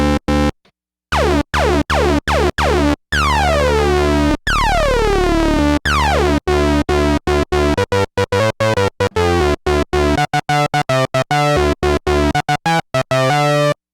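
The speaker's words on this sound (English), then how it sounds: "we can get sync lead sounds pretty quick" A buzzy Moog Sub Phatty synthesizer sync lead plays a fast, rhythmic run of choppy notes, its harsh tone sweeping and snarling as the pitch glides, loud and up front.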